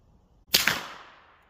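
A single sharp gunshot from a 10mm Ruger LC Carbine firing Winchester 180 grain range ammunition outdoors, an abrupt loud crack followed by a short fading echo.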